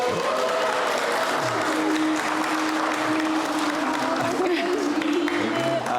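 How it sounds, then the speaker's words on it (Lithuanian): Wedding guests applaud at an office-style wedding ceremony, a dense, steady wash of clapping from many hands that lasts throughout, with a faint murmur of voices underneath. "Aplodismentai."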